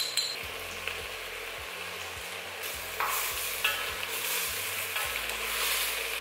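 A teaspoon each of cumin and choricero pepper paste frying over medium-high heat in a pan for a chicken stew, a steady close sizzle broken by repeated rhythmic scrapes of a spoon stirring.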